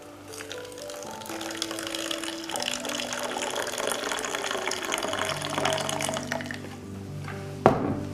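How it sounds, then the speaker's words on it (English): Boiling water pours steadily into a jug, the pitch rising as it fills, close and fairly quiet, ending with a small clunk. "Add 100 grams of boiling water."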